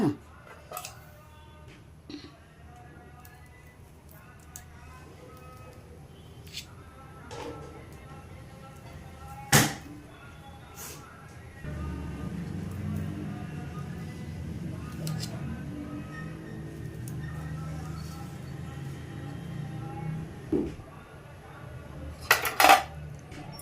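A knife slices set high-protein burfi made with cucumber and paneer into pieces, giving scattered clinks and taps against a plate or tray, with a soft scraping stretch in the middle and a few sharper knocks near the end.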